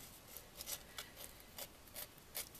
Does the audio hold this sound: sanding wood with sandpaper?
yes